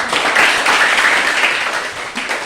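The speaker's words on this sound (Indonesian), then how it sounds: "Berikan aplaus untuk kelompok." A classroom full of students gives a presenting group a round of applause, with many hands clapping in a loud, dense, steady burst.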